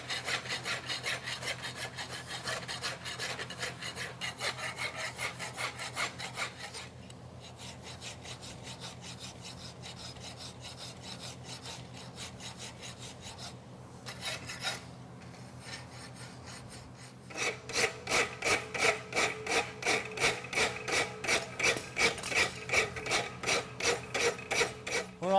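A farrier's rasp works a front navicular horseshoe at a blacksmithing championship, giving long stretches of steady scraping strokes that turn louder and sharply rhythmic near the end.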